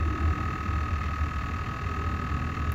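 Soft steady buzzing and whirring from the idle air control valve on a Chevy throttle-body-injected engine, heard up close, a faint continuous mechanical hum without speech.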